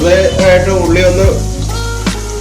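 Onions sauté with turmeric in a hot pan, giving a loud, close, continuous sizzle with occasional stirring scrapes.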